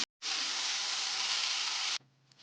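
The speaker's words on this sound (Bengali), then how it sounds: "দিয়ে দিচ্ছি তেলের মধ্যে কুচিয়ে রাখা পেঁয়াজ" Chopped onion hits hot oil and sets off a loud, steady sizzle that lasts under two seconds and then cuts off abruptly. No one talks.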